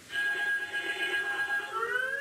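A shrill, warbling electronic creature cry from Pokemon Legends: Arceus, a steady high tone that bends upward at the end, loud and alone without speech.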